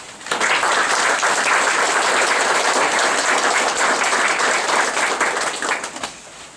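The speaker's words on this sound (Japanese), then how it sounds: "盛大な拍手をお願いいたします" Audience applause for a troupe of sixteen American-raised drama students after a Kagura performance, a dense, steady wash of many hands clapping that holds loud throughout and thins near the end.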